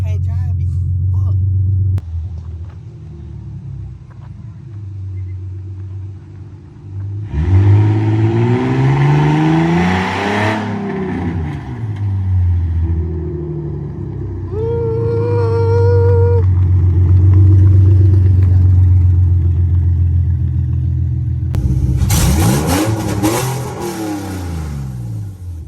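A loud Infiniti G37 with a VR30 engine swap and no exhaust revs up hard several times, with rough rumbling between throttle blips. People talk over the engine.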